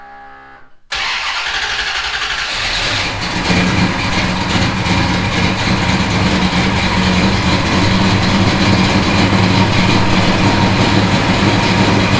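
A 1967 Dodge Dart engine cranks and fires after a short quiet moment, then settles into a loud, steady, rumbling idle that runs on close by with no talking.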